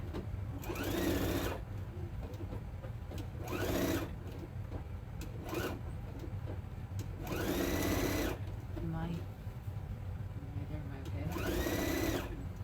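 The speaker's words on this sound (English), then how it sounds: "And I'm going to sew this all the way down." A sewing machine stitches down a sewing mat in repeated loud bursts of rapid whirring, each lasting about a second, with pauses between runs, close by.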